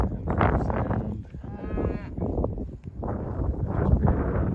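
A South Poll cattle herd mooing, with several overlapping low, drawn-out calls close by against wind and outdoor noise, continuous and fairly loud.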